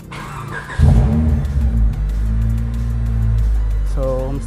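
A Honda Civic engine cranks and catches at about one second, then settles into a loud, steady rumble. Someone talks briefly near the end over the running engine.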